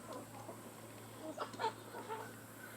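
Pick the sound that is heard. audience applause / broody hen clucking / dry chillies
broody hen clucking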